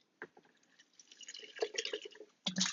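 Water is poured into a mead jug holding honey, giving close, quiet splashing and gurgling in bursts, with dripping sounds and a louder pour at the end.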